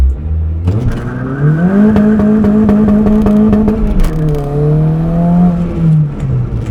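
A modified turbocharged car accelerates on boost, its engine note climbing steadily and loud from inside the cabin, easing briefly before pulling again with a smooth, continuous drone.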